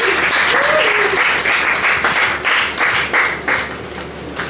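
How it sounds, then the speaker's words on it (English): Warm audience applause at a live comedy show, a loud dense wash of clapping that fades slightly toward the end, with a brief voice near the start. "give a nice warm applause for Mr."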